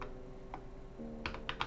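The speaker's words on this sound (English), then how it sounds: "You want to type disk part" A few soft keystrokes on a computer keyboard, a lone tap followed by a quick cluster of clicks, faint and close over a low background hum.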